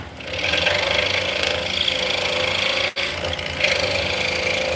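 A machine cuts a mortise in wood in a workshop, giving a continuous buzzing, rasping whir at a fairly even level. There is one sharp, brief dropout near the middle, and then the cutting noise resumes steadily.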